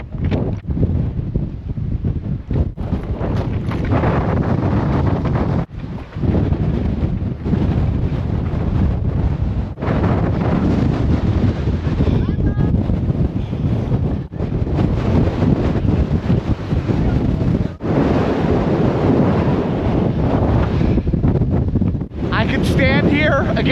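Strong wind buffets the microphone on a hilltop in San Francisco, loud continuous roaring gusts with brief lulls throughout.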